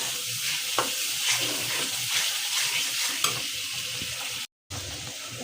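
Turmeric, garam masala, ginger and garlic sizzling and frying in a hot pan, a dense continuous hiss with occasional sharp crackles and stirring scrapes, close and loud, briefly cut to silence near the end.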